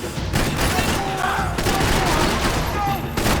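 Rapid bursts of gunfire crackle continuously, dense and loud, in a Max Payne 3 video game firefight, with faint voices underneath.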